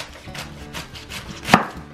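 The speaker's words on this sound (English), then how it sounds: "I'm going to move over about the same distance and cut another slice." A knife slices through a cabbage on a cutting board for bacon and cheese cabbage rounds: a few soft cuts, then one sharp, close crunch of the blade biting through and tapping the board.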